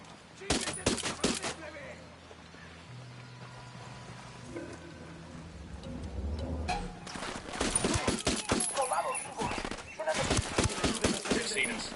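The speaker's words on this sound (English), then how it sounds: "Opening fire." Bursts of rapid automatic gunfire crackle in the Ghost Recon Wildlands video game, a quick volley at the start and heavier sustained fire later, with in-game radio voices talking between shots.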